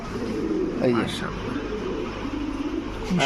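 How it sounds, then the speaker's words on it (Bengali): A male pigeon of a fancy breed such as Budapest, racer or pouter, at a pigeon seller's, gives soft repeated coos close by while people talk over it. "কালারটা খুব সুন্দর ডাকটাও খুব সুন্দর ভাই কবুতরটা"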